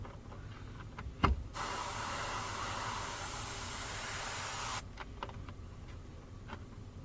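An airbrush sprays paint onto an RC car body shell in a steady, close hiss lasting about three seconds, with faint clicks and ticks before and after it.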